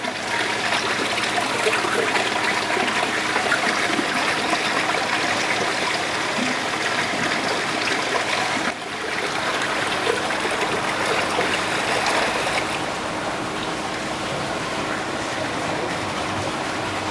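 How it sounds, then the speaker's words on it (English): Water pours steadily out of a pump-through barrier test rig during a flow test, a continuous loud rushing stream that briefly dips partway through and then carries on. "now you should start to see the water discharging"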